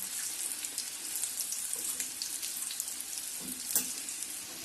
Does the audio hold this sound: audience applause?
no